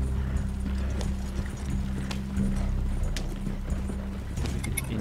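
Horse hooves clip-clopping in a game, a steady run of hoof strikes at moderate level over a low background hum, with a brief neigh-like tone.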